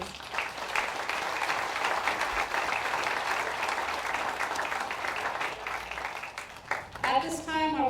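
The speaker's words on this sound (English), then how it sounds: "Can we give them a round of applause, please?" Steady, dense applause from an audience at a Veterans Day ceremony, a continuous wash of clapping held at an even level for several seconds, then fading as a voice starts speaking.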